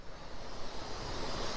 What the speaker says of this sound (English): you can hear air flowing through the system